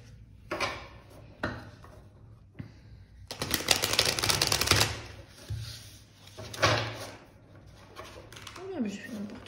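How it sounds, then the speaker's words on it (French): Lucid Dreams Beginner Tarot cards are shuffled by hand in bursts of riffling and rustling, with quiet gaps between them and a voice briefly audible near the end. "après 4 cartes du Lucid Dreams Beginner Tarot de Saint-Soleil, on va bien mélanger"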